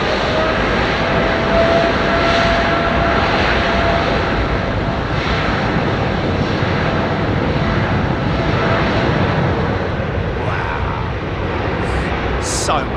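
An Air Canada jet airliner in special livery takes off at London Heathrow, its engines a loud, sustained roar that fills the whole stretch, with voices faintly underneath.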